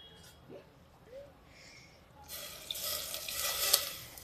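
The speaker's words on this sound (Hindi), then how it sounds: "थोड़ा पानी और डाल देते हैं।" Water poured into a pressure cooker holding chana dal with pumpkin, a soft splashing trickle starting partway through and building steadily, close, after a quiet stretch with a few faint kitchen clinks.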